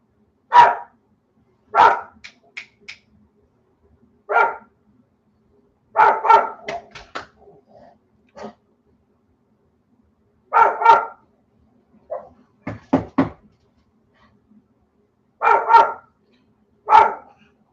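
A dog barks in spaced single and double bursts, with some softer yips and whimpers between them, fairly close and alone against a quiet background.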